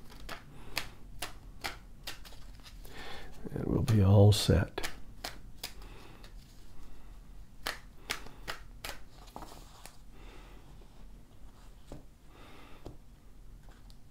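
A deck of tarot cards is shuffled at a table, with crisp, irregular riffling clicks and one brief louder burst, heard beside a speaking voice.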